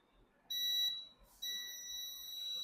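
A multimeter in continuity mode beeps while a capacitor is tested, giving two steady high electronic tones separated by a short gap, heard close and moderately loud.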